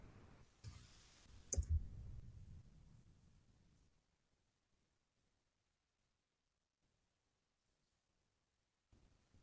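Rapid keyboard typing, a brief cluster of clicks on a computer keyboard at close range early on, then near silence with a faint click at the end.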